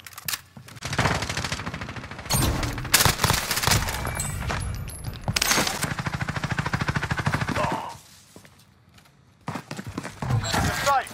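Dense automatic gunfire in Call of Duty Modern Warfare, loud, close bursts of rattling shots running almost continuously, dropping briefly before resuming, mixed with radio chatter and game voices.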